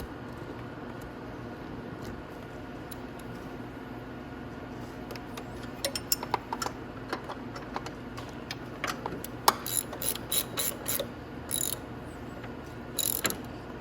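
A ratchet with an extension tightens the rear shock bolts on a Venom X18 automatic motorcycle. Quick, close ratcheting clicks come in irregular bursts over the second half, with no voice.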